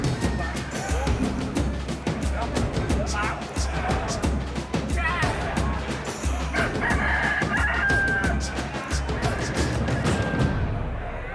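Roosters crow repeatedly and cluck amid a dense, noisy crowd at a Bali cockfight, with people talking and shouting loudly throughout.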